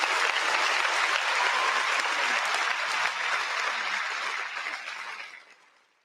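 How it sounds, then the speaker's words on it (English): A round of applause for a birthday celebration, steady dense clapping from a group that holds for several seconds and then fades out toward the end. "Round of applause for Alex's birthday."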